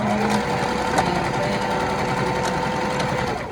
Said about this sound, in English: We're gonna line up the card slot with the other one at the measurement and the pattern. And sew it down.